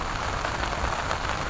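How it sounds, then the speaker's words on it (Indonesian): Gentle drizzle falls steadily on a solo campsite at Bukit Purnama Puncak 2, producing an even, soft hiss of raindrops with no voices. "Kondisinya masih gerimis syahdu asoy."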